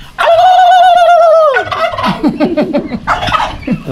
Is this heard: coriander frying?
no